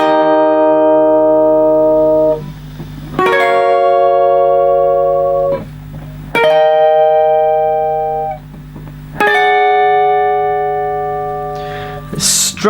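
Electric guitar playing a riff, funky strummed chords in four sustained phrases with sharp attacks, loud and close, with no voice over it.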